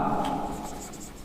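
A board being written on during an English lesson gives a short, smooth continuous rubbing stroke, close and fairly clear.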